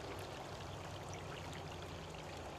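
Stream water pours steadily over a log V-weir into a woodland pool, a continuous close rushing and splashing wash with no voices.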